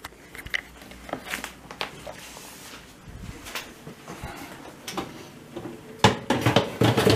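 A metal baking tray of sliced minced-meat börek slides onto the middle rack of an oven preheated to 200 degrees, with scattered close clanks and knocks, then a louder cluster of clatter at the end.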